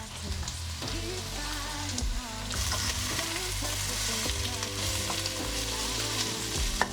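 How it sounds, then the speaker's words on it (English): Three garlic cloves sizzling and frying in a pan while making vegetarian pilau, a steady crackling hiss with stirring clatter throughout, no talking. "Give it a minute for the garlic to brown some."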